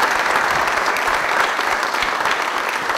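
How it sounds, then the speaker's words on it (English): Live audience applause at a talk event honoring a restaurant cook, a dense steady wash of clapping hands filling the room at even loudness throughout, with no voices rising above it. "So everybody give a big round of applause to Rolf Johnson."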